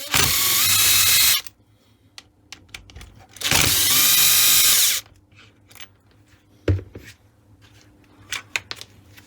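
A power tool whirs loudly in two sustained bursts unscrewing four bolts while disassembling a Makita HM1304B demolition hammer, with clinks, taps and handling noises of metal parts between them.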